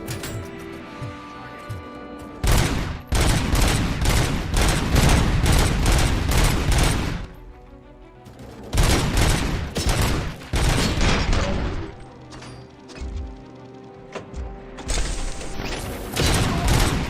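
Sustained video game gunfire, loud close bursts of rapid automatic shots in long volleys separated by brief pauses, with booms and mechanical clatter mixed in.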